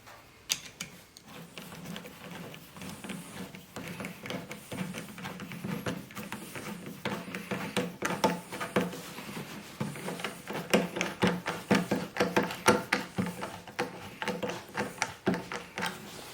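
A clamp on a Harbor Freight dust collector bag is tightened with a rapid series of close mechanical clicks and ratcheting ticks that grow denser and louder toward the end.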